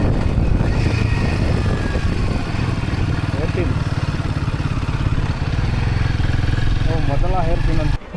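A motorcycle climbs the twisting road up DD Hills, its engine a loud, steady close drone with slight rises and dips, and a voice partly over it.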